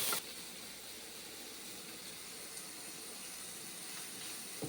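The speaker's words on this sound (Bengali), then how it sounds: "ভালো করে ফ্রাই করে নিচ্ছি পেঁয়াজ এবং টমেটো।" Onion and tomato fry in a pan with turmeric and salt, a steady, faint broadband sizzle and hiss running continuously without speech.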